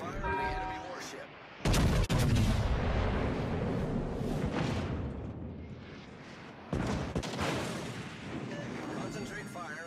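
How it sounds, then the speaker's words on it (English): Naval guns in a video game pound an enemy warship with heavy booming salvos, two sharp loud blasts standing out above a dense rumble of continuous fire and game sounds. "Concentrate fire on the enemy warship"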